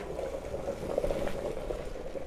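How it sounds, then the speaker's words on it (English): Water boiling vigorously nearby, a steady bubbling rumble with continuous popping and hissing, fairly quiet and unbroken. "My water's boiling, I'll be right back."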